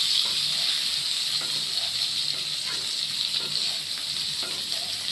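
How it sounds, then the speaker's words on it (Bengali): Boiled potatoes fry in oil in a pan for biryani, giving a steady, close hiss and sizzle throughout, broken by faint scrapes and stirring taps, with no voices. "এইভাবে ভালো করে আলুটাকে ভেজে নিতে হবে।"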